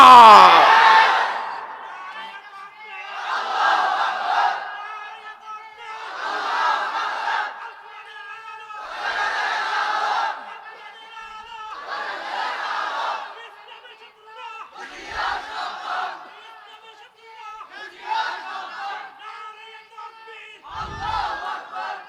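A large crowd chants the slogan Allahu Akbar in loud, rhythmic bursts, each call swelling and fading in a steady repeating pattern of about eight shouts, with the massed voices close and filling the space.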